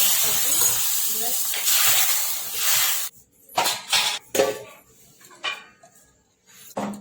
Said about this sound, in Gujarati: હવે વઘાર એડ કરીશું.